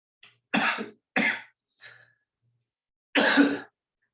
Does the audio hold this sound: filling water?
no